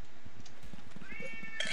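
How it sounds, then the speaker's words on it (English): A cat meows indoors, short high tonal cries near the end over a low background rumble of a room or game audio. "I hear a kitty. I hear a meow."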